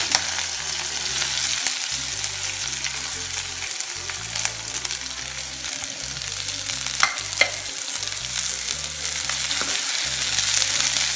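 Mustard seeds and black pepper frying in hot oil for onion pachadi give a steady, continuous crackling sizzle that runs the whole time, with low steady tones underneath.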